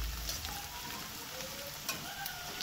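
Soft leafy greens and onion fry together in a pan, giving a quiet, even sizzle that runs continuously with faint crackles and no talk.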